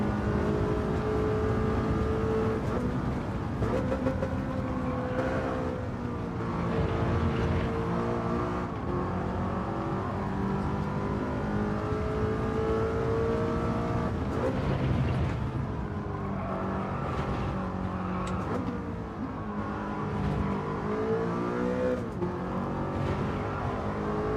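Racing car engine in a video game time trial, revving hard and held near its limit around 8,500 rpm, rising and falling steadily through gear changes, loud and close with no talk over it.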